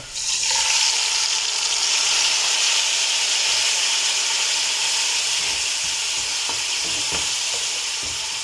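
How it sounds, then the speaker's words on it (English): Grated tomatoes and garlic hit a hot pan of oil for a potato stew and sizzle loudly and steadily throughout, a close, dense frying hiss with a few faint stirring clicks. "So I'll then go ahead and add in my grated tomatoes and garlic."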